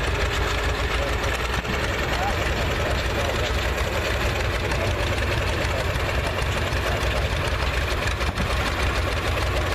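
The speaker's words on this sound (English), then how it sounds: "Another John Deere coming up on us, but that's a 1936 Model B" A 1936 John Deere Model B tractor engine runs steadily in a parade, its rumbling, knocking idle continuous and fairly close for the whole stretch, with faint crowd voices mixed in.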